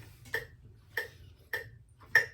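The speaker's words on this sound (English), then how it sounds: "metronome." A metronome clicks four times at a steady, even tempo during a baritone lesson, each tick quiet and crisp over faint background hum.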